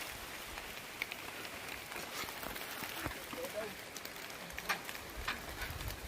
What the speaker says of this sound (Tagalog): Basa na kami sa ulan.